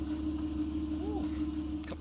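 Stock-exhaust Audi V6 engine idling steadily up close, a smooth continuous low hum with a constant tone throughout and a brief pitch swell midway.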